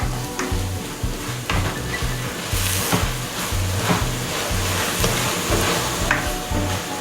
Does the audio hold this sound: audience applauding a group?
no